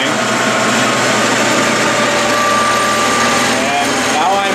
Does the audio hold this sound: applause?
no